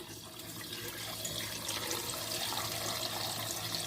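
Tap water runs steadily into a cooking pot holding a whole chicken set to boil, a continuous close splashing fill with no talk.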